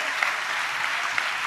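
Church congregation clapping hands together in praise during a Telugu sermon, a steady dense wash of many hands with no voices over it.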